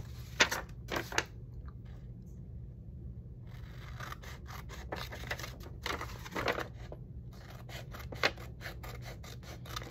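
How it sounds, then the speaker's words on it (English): Paper being cut in half with scissors while making a French Country lilac envelope folio, heard as a run of quiet close-up snips and crisp cuts in irregular bursts over a low background hum. "Let me just cut this in half."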